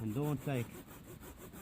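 Timber is sawn slowly by hand outdoors after rain, with soft rhythmic rasping strokes. Someone speaks briefly at the start.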